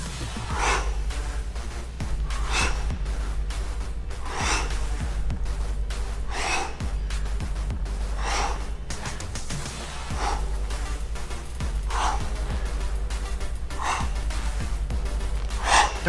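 Heavy rhythmic breathing during a beginner ab workout, strong breaths recurring about every two seconds over a steady low background hum, close and fairly loud.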